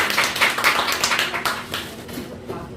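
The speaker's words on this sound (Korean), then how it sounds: "많은 박수 부탁드립니다" Audience clapping to welcome a children's author onto the stage at a literary talk concert, a dense burst of applause from a modest crowd that is steady at first and then tapers off.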